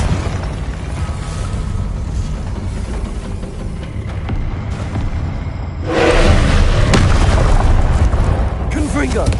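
A Confringo blasting spell in Hogwarts Legacy bursts into a loud, broad explosion about two-thirds of the way in, preceded by rumbling game ambience and followed by crackling debris.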